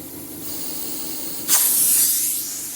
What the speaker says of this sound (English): That is the Elizabeth horizontal single action steam engine.